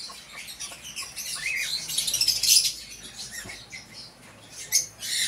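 Many birds at a bird farm chirp and squawk in a busy, overlapping chorus with scattered sharp calls and rustling, moderately close and fairly quiet throughout.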